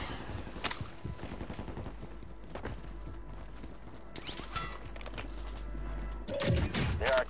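Scattered gunfire and mechanical clatter in the video game Call of Duty Warzone, with sharp shots at intervals over a low rumble, and a louder burst near the end.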